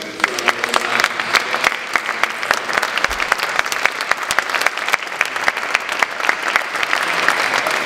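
Audience applause fills a hall at a comics presentation: dense, steady clapping from many hands, loud and continuous throughout with a faint murmur of voices beneath.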